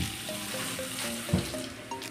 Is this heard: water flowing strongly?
yes